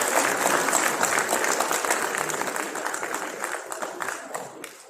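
An audience at a Swami Vivekananda Jayanti and National Youth Day event at Sharda University breaks into strong, sustained applause, loud and dense at first, then slowly thinning toward the end.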